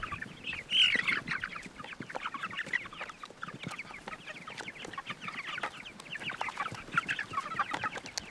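A flock of large meat chickens clucks excitedly over corn, a dense, busy chorus of nearby clucks and squawks with a sharp louder cry near the start and steady chatter throughout.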